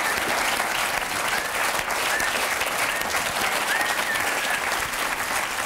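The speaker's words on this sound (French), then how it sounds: "On va remercier et encore applaudir très fort Mr." Audience applause for a singer at the close of a French TV show, a dense, steady wall of clapping from a large crowd that holds at full level throughout with no voices over it.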